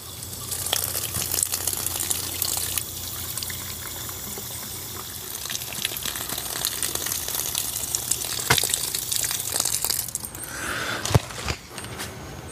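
A pressure washer fitted with a 15-degree 6.0 nozzle rinses a car outdoors, giving a steady, loud hiss of spraying water that shifts in tone as the stream moves across surfaces, with no talking.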